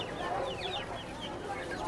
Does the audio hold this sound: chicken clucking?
yes